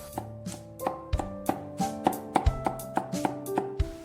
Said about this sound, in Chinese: 然后再剁一剁，剁成细蒜末。